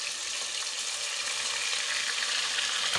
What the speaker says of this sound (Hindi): अब हम इसमें शामिल करेंगे अपना प्याज जो हमने पेस्ट बना के रखा हुआ था